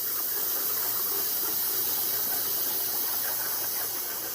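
CNC plasma cutter slicing 6 mm plate over a water table, a steady loud hissing roar that holds unchanged throughout, alone with no talk.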